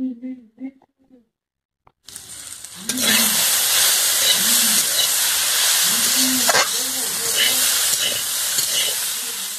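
Loud, steady sizzling of ivy gourd (kundri) frying in a pan with turmeric, starting abruptly after a quiet opening with brief talk, with occasional stirring scrapes and a voice speaking underneath.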